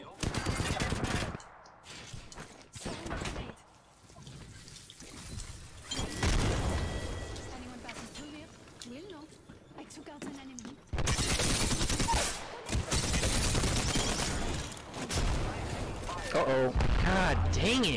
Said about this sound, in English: Freaking team is just shooting at us.